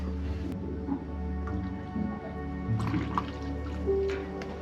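Water is poured into a pot aboard a boat to boil for hot chocolate, giving soft liquid splashes and drips over a steady low onboard hum, close and fairly quiet.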